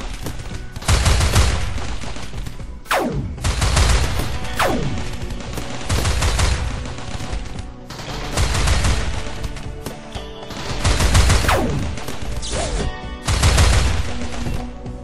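Bursts of rapid automatic gunfire from defensive turrets in the RimWorld video game, several clustered volleys with short pauses and descending whistling shots, loud and continuous with no talking.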